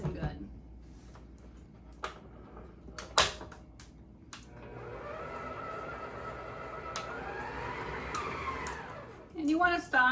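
A stand mixer with a paddle beats thick monster cookie dough. The motor whirs steadily for several seconds amid clanks and knocks, with louder clattering near the end.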